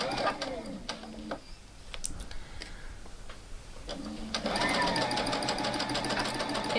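A domestic sewing machine stitches a curved seam on a New Look 6575 garment, with a steady rapid mechanical whir in two bursts separated by a pause, close and moderately loud.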